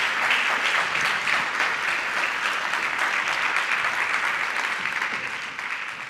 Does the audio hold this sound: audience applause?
yes